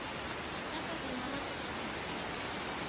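Steady, even rain hisses throughout, a dense wash of falling drops with no distinct breaks, continuous and moderately loud across the whole stretch.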